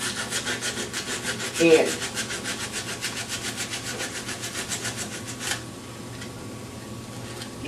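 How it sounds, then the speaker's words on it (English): Rhythmic back-and-forth scrubbing strokes clean a small engine ignition coil during flywheel repair, fast and steady at close range before stopping abruptly; a brief word is spoken. "It would also be a good idea to take your time while you got to it and clean your ignition coil"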